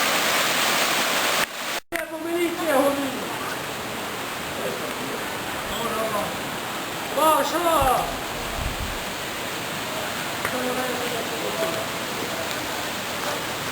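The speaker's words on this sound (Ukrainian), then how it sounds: "А ось річка Біла Тиса." Steady broadband rush of the Bila Tysa river flowing throughout, in the Chornohora range of the Carpathians, with a short knock near the start and a few faint voices over it.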